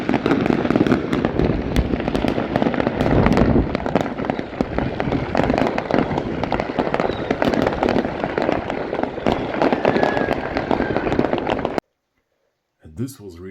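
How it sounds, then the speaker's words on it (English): A New Year's Eve fireworks display fills nearly twelve seconds with dense, rapid crackling and popping bursts, loud and close, mixed with voices of onlookers, before a sudden cut to silence and a faint final sound. "the fireworks were..."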